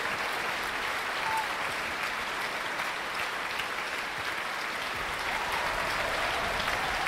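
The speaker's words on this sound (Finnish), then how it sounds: "Paraikaa saavat suosionosoituksia soolopuhaltajat RSO:sta, nyt koko takarivi" Sustained applause from a concert audience in the Helsinki Music Centre, greeting the solo wind players of the Radio Symphony Orchestra after Mahler's Fourth Symphony; dense, even clapping fills the hall steadily throughout without pause.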